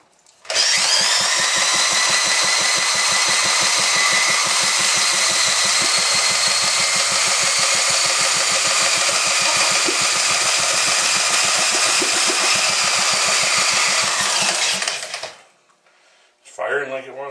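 A rebuilt Ironhorse engine kick-started cold fires and settles into a loud, steady, rapid chugging run for about fifteen seconds before cutting off, with a brief voice afterward.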